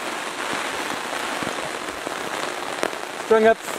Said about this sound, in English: it's just pouring down rain